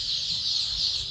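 Young Tiger-breed chicks kept under a brooder on a poultry farm make a steady, dense, high chirping chorus that carries on without a break, fairly close and even in loudness.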